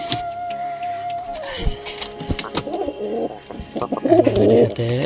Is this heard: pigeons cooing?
yes